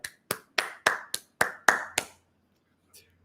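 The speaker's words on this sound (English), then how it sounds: "let's give YLI a round of applause" About eight sharp hand claps in a steady rhythm, close and distinct, then silence apart from one faint tap.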